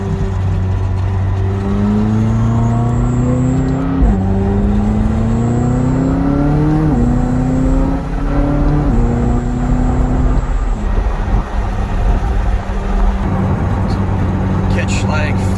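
A McLaren 620R sports car accelerates hard, its engine note climbing steadily and dropping at each of several quick gear shifts, loud and close from inside the car.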